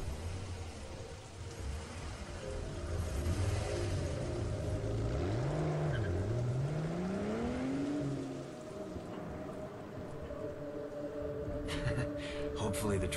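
A late-1970s Mustang engine in the game Painkiller hums steadily under heavy rain, its pitch rising and dipping in the middle as it revs, with a voice talking over it.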